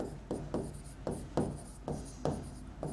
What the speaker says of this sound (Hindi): अब देखो यहां लिख रहा हूं मैं